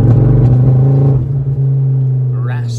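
Ford Focus ST225 engine idling with a misfire, a loud, steady low rumble with a rough, uneven edge that continues throughout, fading slightly toward the end.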